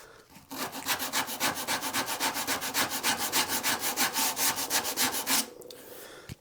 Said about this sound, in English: I'm just going to give it the very quickest of sands at this stage